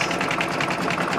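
An embroidery machine stitching a tack down on a quilt block runs at a fast, even, rapid mechanical chatter, close and loud throughout, with no voices.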